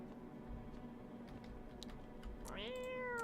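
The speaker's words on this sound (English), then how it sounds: "Petting this damn cat." A cat in the game No, I'm Not a Human gives one short, rising meow near the end, over a low steady background hum and faint clicks, with no talk.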